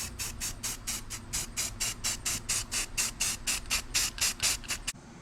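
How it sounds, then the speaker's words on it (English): Rapid bursts of aerosol spray on a Nissan 300ZX engine during a timing service, about eighteen short hissing pulses in a steady rhythm, close by, ending with a faint click. "Let's start spraying."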